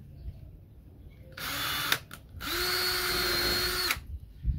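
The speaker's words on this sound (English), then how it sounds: "Now when you put this in, pilot drill first." A power drill bores a pilot hole in porch lattice wood, whining up in two close bursts, a short one then a longer steady run, with quiet outdoor background around it.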